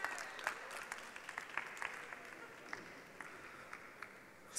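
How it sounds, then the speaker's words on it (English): An audience at a magic show claps steadily for several seconds, a moderate round of applause with scattered louder claps. "Give him a round of applause"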